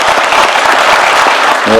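Loud, close crowd applause at a Jeonbuk town hall gathering, a dense burst of many hands clapping, with a voice starting to speak at the very end.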